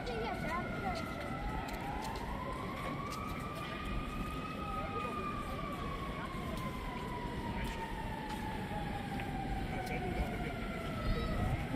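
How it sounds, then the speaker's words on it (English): A fire truck siren wails in slow rising and falling sweeps, heard from some distance at the end of a pier, steady throughout under a low wash of background noise. "Oh no, it's a fire truck."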